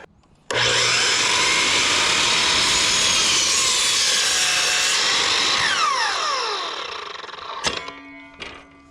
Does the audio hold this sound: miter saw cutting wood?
yes